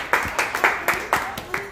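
An audience claps in a quick, uneven burst of about seven sharp claps under a speaker's voice.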